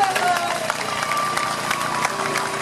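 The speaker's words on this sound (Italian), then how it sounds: "Facciamo un applauso." An audience applauds after a call for applause, a brief dense patter of many hands clapping throughout with some crowd noise.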